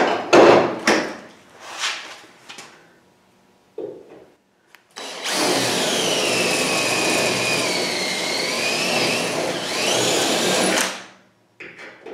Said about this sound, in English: I'll use this body chisel and, of course, a hammer